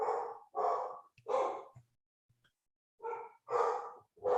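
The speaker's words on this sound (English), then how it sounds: "My dogs have apparently found something fascinating to bark at." Dogs barking indoors during a live online call: two quick bursts of three loud barks each, separated by a short pause with faint snorts and breaths.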